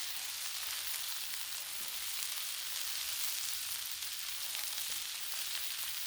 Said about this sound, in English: So let's add some ghee.